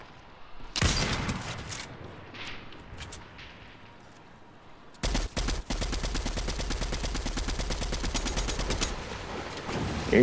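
Fortnite gunfire: one short burst, then a long rapid automatic volley rattling steadily for about five seconds, with a few softer shots and game sounds in the gap between them.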